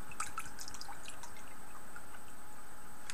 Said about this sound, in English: there's just no fizz when you pour it